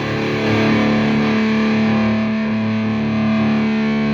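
Electric guitar through the distortion channel of an Orange Super Crush 100 amp, playing loud sustained saturated chords with a thick, buzzing, harmonically rich tone and no talking.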